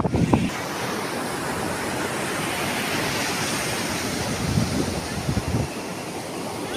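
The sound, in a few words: rough sea waves at Puri beach during Cyclone Remal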